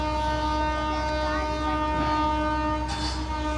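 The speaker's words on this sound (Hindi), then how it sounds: "ट्रेन देखिएगा, ट्रेन आ रही है इस पे।" Train rolling past a riverside spot, a steady loud rumble with sustained horn tones throughout and a brief hiss burst near the end.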